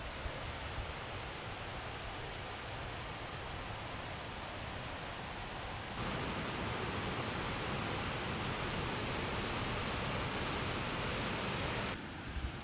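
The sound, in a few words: flowing water in Blagaj, Bosnia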